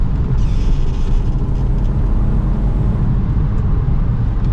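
A tuned BMW E36 323i with an automatic gearbox on a mountain touge drive, heard from inside as a loud, steady, dense engine and road roar without breaks.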